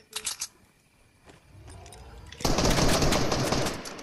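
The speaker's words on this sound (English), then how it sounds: "But that's a minigun." Rapid sustained minigun fire in Fortnite, a loud continuous burst that starts abruptly and runs to the end, preceded by a few short shots and quieter game noise.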